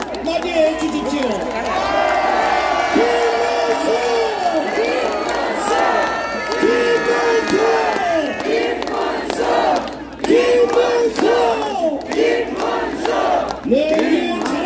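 A crowd at a Seoul Station presidential campaign rally greets candidate Kim Moon-soo with continuous loud cheering, shouts and applause, dense and close throughout, with voices rising and falling in waves.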